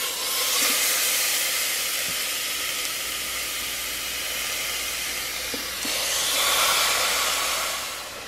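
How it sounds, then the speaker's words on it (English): Seasoned meat sautés on the hot setting of an Instant Pot, giving a loud, continuous broadband hiss that swells, eases a little through the middle, and surges again near the end. "I have my meat in there sauteing"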